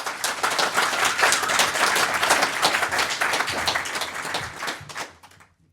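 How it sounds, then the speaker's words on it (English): Sustained audience applause at a PHP UK conference talk, steady dense clapping that holds strong for about five seconds before fading out abruptly at the end. "warm round of applause for Naomi and her talk about event-driven evolution."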